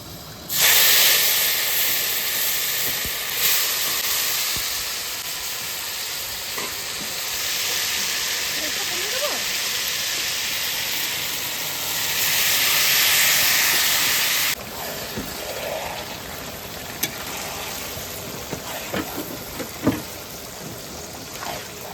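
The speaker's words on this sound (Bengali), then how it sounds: "মাংসটা ভালো করে কষিয়ে নিচ্ছে একদম।" Meat and onions braise and fry in a pan, a loud continuous sizzle and hiss with stirring scrapes, swelling louder midway then settling, with a few clinks near the end.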